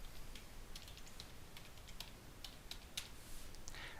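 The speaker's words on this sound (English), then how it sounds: "So let's go ahead and type in the password." Quiet, light keystrokes on a computer keyboard as a password is typed in, a short irregular run of soft clicks heard alone with no talking.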